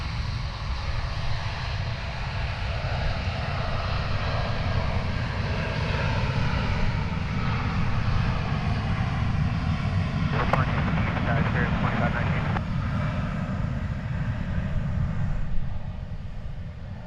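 An airliner departs DFW Airport for Rome, its engines roaring steadily and broad throughout, with a brief chatter of radio voices partway through.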